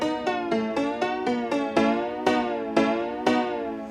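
Awesome Piano plugin turned to full weirdness, a short melody of roughly ten piano-like notes with bright, slightly bending ringing tones, struck at a steady pace, close and alone.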